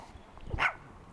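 A single short dog bark sounds once at moderate distance, brief and sharp against a quiet background.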